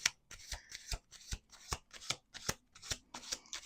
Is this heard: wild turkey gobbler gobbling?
no